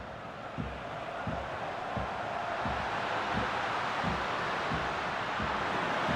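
Crowd noise from a Portugal vs Spain football match in the FIFA 23 video game, a dense continuous roar of stadium cheering with a rhythmic pulse of chanting or drumming underneath.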